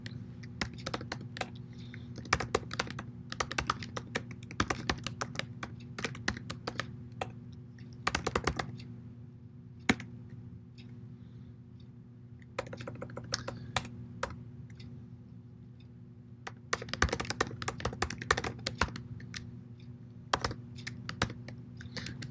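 Someone types code on a computer keyboard in quick, uneven bursts of clicking keystrokes with short pauses between them, close up and heard alone.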